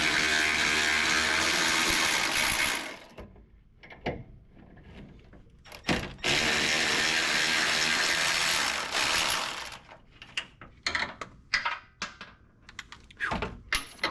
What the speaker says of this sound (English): Let's try the regular socket wrench.